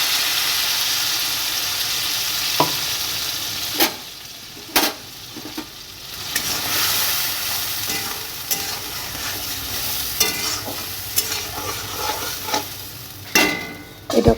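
Potatoes sizzle in a pan with ginger-garlic-onion paste, salt and green chilli, a steady frying hiss broken by sharp scraping and clanking strokes of a spatula stirring them.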